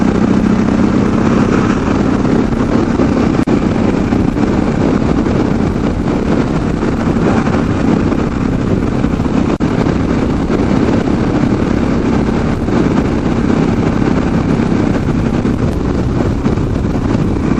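A Yamaha XT 660 Z motorcycle engine drones steadily while riding along a straight road, loud and constant, heavily mixed with wind rush against the microphone, with no talking.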